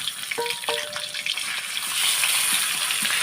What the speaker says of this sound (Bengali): পেঁয়াজটা আমি 2 মিনিটের মতন ভেজে নেব।